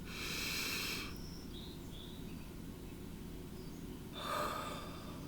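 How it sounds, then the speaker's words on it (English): Two deep breaths, a long airy inhale and then another after a quiet pause, sounding close over a faint steady background hum; no words are spoken. "Another deep breath."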